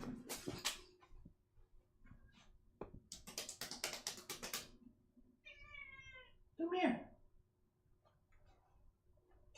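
A pet cat meows close by, with one clear drawn-out meow near the end and a shorter wavering call before it, while a person speaks to it in between.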